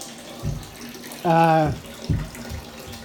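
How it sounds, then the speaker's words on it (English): Water emptying through the rear drain plug of a Porter Cable wet tile saw, a brief gurgling rush in the middle of the clip amid faint background noise and a few soft knocks. "with this one, the Porter cable, there's a drain plug in the back. Pop that up. It empties."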